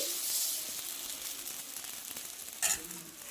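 Tomato dosa batter sizzles on a hot pan with a soft, steady, close hiss and faint crackle, quiet overall, with a brief sharper burst of sizzle near the end.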